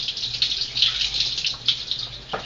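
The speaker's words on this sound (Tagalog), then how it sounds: "pagkatapos ko maghugas ng bigas" Rice being washed in a pot with tap water, a steady close splashing and trickling of water that runs throughout, with a brief gush near the end.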